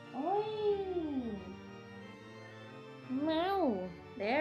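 A cartoonish cat in the video game Star Stealing Prince gives a long, loud, wavering meow, a short pause of quiet, then two more rising meows close to the mic with no talking.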